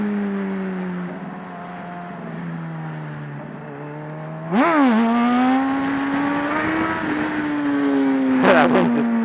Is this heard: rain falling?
no